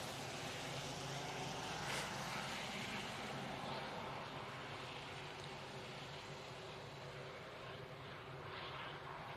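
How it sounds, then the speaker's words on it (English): An EasyJet airliner departing Manchester Airport for Prague gives a steady, distant broadband engine roar that holds evenly throughout. "we got this EasyJet now going off to Prague"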